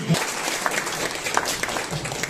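Applause at a 55th birthday celebration for Rajyogini BK Anu didi, a steady dense patter of many hands clapping close by after a birthday song, with a faint voice briefly underneath.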